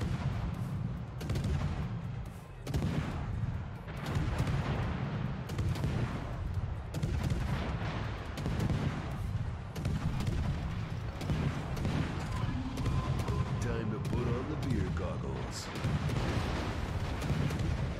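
Repeated naval gunfire from the HNLMS Friesland, a Tier IX European destroyer in World of Warships, firing in rapid irregular bursts with booming low reports and a steady background rumble, carrying on loudly throughout.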